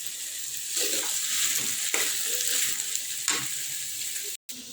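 Okra pieces fry in a pan with a continuous close sizzle, broken by a few sharp clacks and scrapes as they are stirred, ending in a brief cut of silence.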